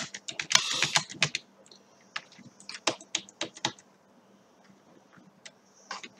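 Computer keyboard typing while code is copied and pasted: a cluster of fast key clicks, then scattered individual taps and short key presses, close and fairly quiet.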